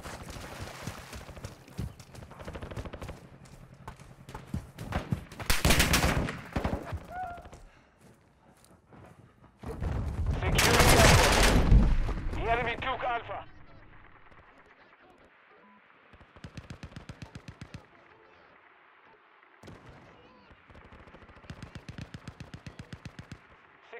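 Gunfire in Call of Duty Modern Warfare 2 on Xbox Series X: scattered shots and rapid automatic bursts, two loud blasts, then a quieter stretch of repeated rattling fire, with brief speech.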